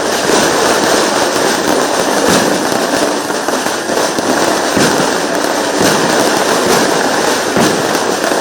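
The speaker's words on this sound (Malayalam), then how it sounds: "അത് ആ വെടിക്കെട്ടിന്റെ ശബ്ദം ആസ്വദിച്ചു." NDA-sponsored fireworks at a Kerala election campaign finale burst nonstop in a loud, dense barrage of cracks and booms, with rhythmic surges of firecracker explosions and no audible talk.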